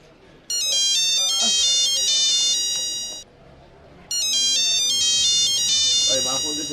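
A phone ringtone plays a loud, bright repeating electronic melody in two bursts, the first about three seconds long, a brief pause, then a second burst, with faint background sounds beneath.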